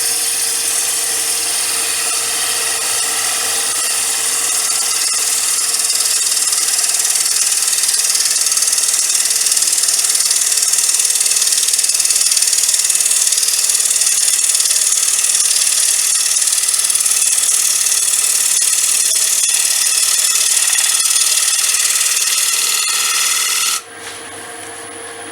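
A steady, loud hissing scrape of a gouge cutting an off-centre wooden bowl on a wood lathe, continuous for most of the stretch before the cut abruptly stops and the lathe hum carries on alone.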